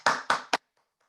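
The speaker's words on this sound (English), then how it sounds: "Please give her a round of applause." Applause from online meeting participants: three short, loud bursts of clapping in quick succession, then silence.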